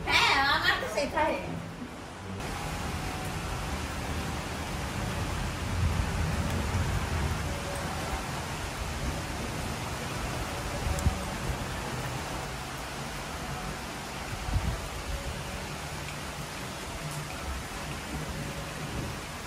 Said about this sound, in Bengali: কেমন বৃষ্টি হয়েছে দেখুন